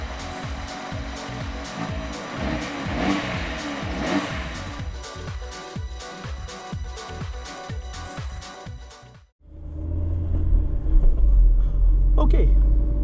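Turbocharged four-cylinder engine of a 2017 Fiat 124 Spider, a 160-horsepower roadster, running with a rhythmic low throb and pulsing revs, then a brief drop before a louder, steady deep rumble close by.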